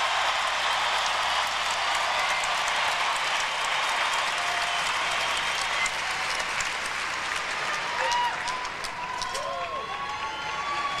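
An arena crowd at the 2002 Salt Lake City Winter Olympics pairs figure skating applauds the medalists with sustained, even clapping and crowd noise that carries on for several seconds and fills the venue.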